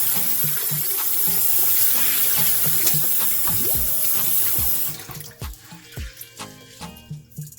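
Black-eyed peas being washed under a running kitchen tap, a loud steady gush of water for about five seconds, then the flow stops and soft sloshing, dripping and swirling of beans in water follow.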